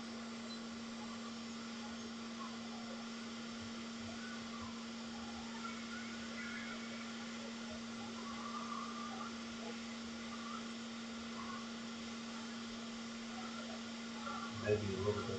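A hot air rework station heats a Jeep ECU circuit board, giving a quiet, constant fan whir with a steady low hum and a few small clatters near the end.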